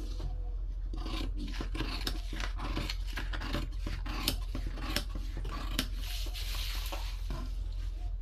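Scissors snipping through blouse fabric, a steady run of short crisp cuts and rasping slides close by, with no talk over them.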